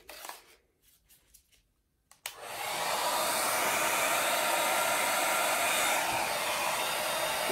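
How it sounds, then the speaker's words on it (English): A hair dryer switches on and runs at a steady, loud roar, with a strong, even airflow sound lasting several seconds during a blow-out styling session. No one speaks over it. "let's use the hair dryer and see what we can accomplish."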